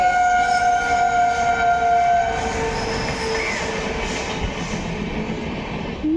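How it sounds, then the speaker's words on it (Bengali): A train draws near, its long, loud horn blaring for a few seconds over a broad rumbling roll of wheels on the rails that keeps up after the horn stops. "ওই যে ট্রেন আসছে।"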